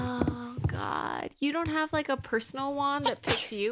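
Someone sneezes once, a sharp burst just under a second in, then people keep talking through the rest.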